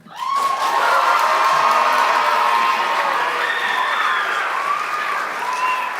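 Audience applause with cheering and whoops at a high school stage production of The Mystery of Edwin Drood, a steady loud ovation from a crowd including young voices, lasting throughout.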